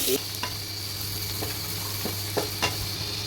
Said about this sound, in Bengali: তেলের উপরে পেঁয়াজ কুচি পেঁয়াজ দিয়ে দিতে